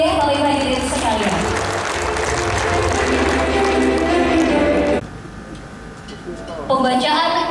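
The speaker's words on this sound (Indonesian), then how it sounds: "Boleh kita berikan tepuk tangan yang meriah Bapak Ibu hadirin sekalian." Audience applause at an inauguration ceremony for a regional young entrepreneurs' association in East Nusa Tenggara, with full clapping for about five seconds before it thins out, then swells again, while talk runs underneath.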